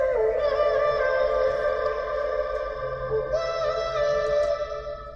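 A pitched-up vocal drenched in a default Valhalla Shimmer reverb, a continuous bright sustained tone with a washy, shimmering tail and no break.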